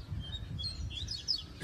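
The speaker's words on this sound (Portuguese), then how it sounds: "Pra botar os passarinhos pra cantar." Coleiro (double-collared seedeater) songbirds singing in a competition, faint high chirps and short trills heard at a distance over low background rumble.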